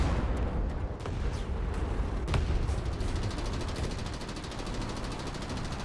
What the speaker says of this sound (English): Arty is everywhere.